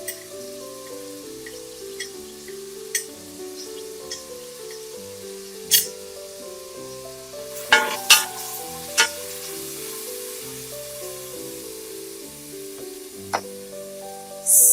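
Meat and onion fry in a pan with turmeric, giving a steady soft sizzle throughout, broken by a few sharper clicks and scrapes of stirring; no one speaks, and music plays underneath.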